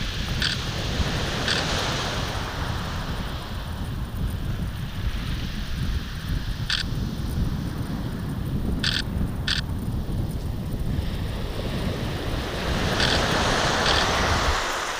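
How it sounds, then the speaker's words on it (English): Sea swell rolling onto the shingle shore at Dungeness, a continuous broad roar of surf with wind over the microphone, steady throughout and without voices. "Bit of a swell going on there."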